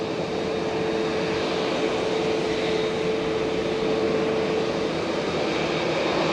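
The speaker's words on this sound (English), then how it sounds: "really close to the aircraft" A jet aircraft runs close by at Fukuoka Airport, a loud steady engine roar with a sustained whine over a broad rushing rumble, constant for the whole stretch with no talk.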